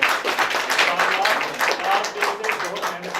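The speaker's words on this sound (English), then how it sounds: "So give them a high applause." An audience at a training programme breaks into applause, a dense patter of hand claps rising quickly and holding steady for a few seconds, with a voice speaking over it.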